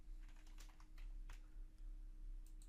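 Typing a card title on a computer keyboard, a quick run of light key clicks in a few short bursts over a steady low hum, close and soft, with no talking.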